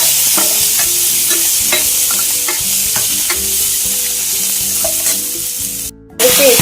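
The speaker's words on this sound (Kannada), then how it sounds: "ಸ್ವಲ್ಪ ತೆಂಗಿನಕಾಯಿ, ಶುಂಠಿ ಬೆಳ್ಳುಳ್ಳಿ ಪೇಸ್ಟ್ ಹಾಕೊಳ್ತಿದ್ದೀನಿ. ಇದನ್ನು ಚೆನ್ನಾಗಿ ಫ್ರೈ ಮಾಡ್ಕೊಳ್ಳಿ." Coconut, ginger and garlic paste fries loudly in a pan, a dense continuous sizzle with periodic spoon strikes and stirring, cutting out briefly near the end before resuming.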